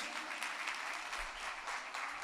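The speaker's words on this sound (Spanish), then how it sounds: "Fuerte ese aplauso para Guadalupe Muñoz" An audience applauds for singer Guadalupe Muñoz at a singing competition semifinal, with steady, dense clapping that fills the short moment at moderate distance and no voices on top.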